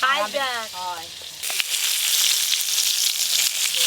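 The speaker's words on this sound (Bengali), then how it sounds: "পটলগুলো এরকম করে ভেজে নিয়েছি" Pointed gourd (potol) fries in oil in a pan with a loud, dense, continuous sizzle, after a short stretch of a person speaking.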